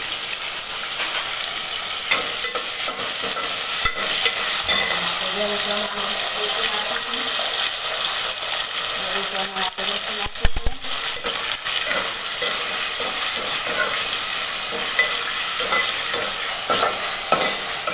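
Potato pieces frying in hot oil while being stirred, a loud continuous sizzle with repeated spatula scrapes and clinks against the pan, close up and sustained throughout.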